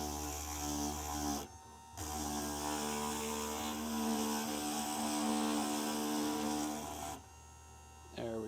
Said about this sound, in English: We're going to use the 1/4 inch grinder on top.